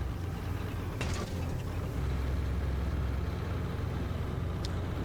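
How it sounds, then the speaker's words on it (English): Vehicle engine idling in a military video game: a steady, loud low rumble that holds throughout, with brief mechanical clicks near the start and end. "We can hear it over our own engine"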